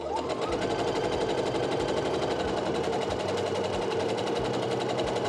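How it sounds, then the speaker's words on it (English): A sewing machine stitches a split nine patch quilt block in a fast, steady mechanical whir with rapid needle clatter, close and continuous without pause. "I'm gonna go ahead and sew until I hit that needle"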